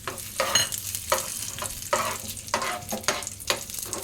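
Cashews and raisins roasting in a pan, turning reddish, with a steady close sizzle broken by repeated scraping strokes of a stirring spoon at a loose rhythm.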